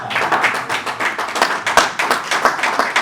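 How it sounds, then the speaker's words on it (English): An audience at a tech summit applauds a panel with dense, steady clapping that fills the room, sustained at an even level for a few seconds without talk. "please kindly help me applaud these excellent panel"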